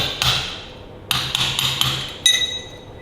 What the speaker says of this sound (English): So I just need an hammer, little hammer.